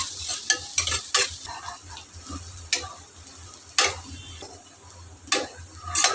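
Chopped onions and green chillies sizzle in a pan while a spatula scrapes and taps the metal in irregular strokes, the frying hiss close and steady beneath the stirring.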